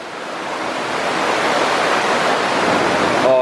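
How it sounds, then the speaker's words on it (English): Monoma Falls near Portland, a waterfall, gives a steady, dense roar of falling water that swells slightly louder over a few seconds, close and continuous with no voices. "We're doing a little stop off of a waterfall."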